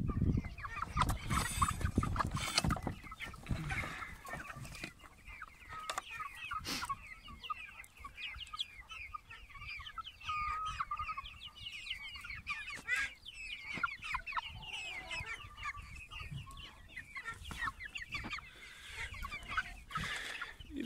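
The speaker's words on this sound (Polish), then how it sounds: "A dzisiaj wypuścimy sobie kury rano" Several hens cluck and squawk nearby in a continuous, busy chatter, with occasional louder calls and rustling; no talking.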